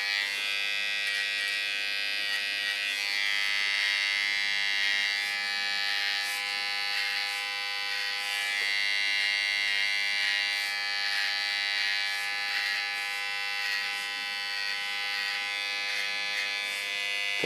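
A hair clipper trims hair into a short tattoo-style haircut, a close, steady high-pitched electric buzz that wavers slightly as the blades move through the hair, with no talking.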